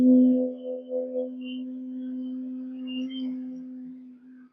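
A single voice hums a long, steady closed-mouth exhale in bee breathing (Brahmari) practice, one low sustained tone lasting about four seconds and fading at the end, close and alone.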